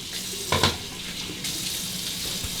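Water runs from a tap to rinse a razor, a close, steady splashing stream with a brief clatter near the start.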